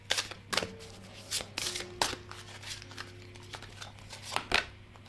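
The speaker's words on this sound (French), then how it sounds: "Deuxième carte que j'ai envie de tirer pour vous aujourd'hui." Oracle cards being drawn and shuffled from a deck, a series of crisp papery flicks and riffles in irregular bursts, close and fairly quiet, with no voices.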